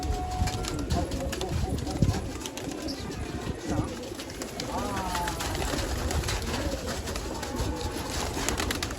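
Pigeons cooing close by in a loft, soft low calls under ongoing conversation and scattered background noise.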